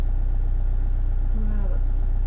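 A campervan engine idles steadily close by, a constant low rumble with even pulsing and no revving, heard alone.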